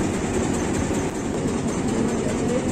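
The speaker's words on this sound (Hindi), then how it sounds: "और अभी ट्रेन स्टार्ट हो चुका है, हम जा रहे हैं एलिफेंट टाउन।" Steady rumble and rattle of a small toy train pulling away on rails, continuous and fairly loud throughout with no talking.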